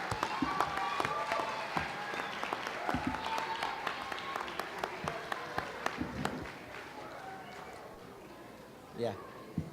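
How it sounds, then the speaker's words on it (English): Audience applause at a school district board meeting, a steady wash of many hands clapping at moderate distance that gradually fades out, with a voice briefly heard near the end. "One more round of applause."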